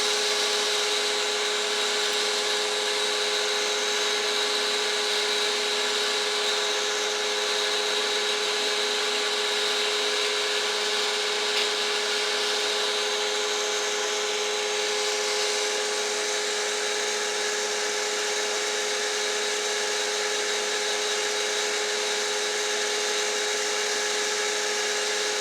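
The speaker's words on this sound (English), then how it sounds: "just taking some of the fine scratches out with a Trizac A30 belt, which is about 600 grit" A belt sander running a Trizac A30 belt of about 600 grit smooths fine scratches from a skinner knife blade, making a steady continuous whir with a high-pitched tonal hum, close and unbroken throughout, with no talk.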